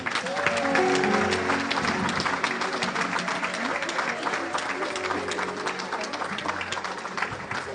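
A crowd claps and cheers at a 56th birthday celebration, steady applause that swells early and then carries on at a fairly even level, with voices mixed in over it.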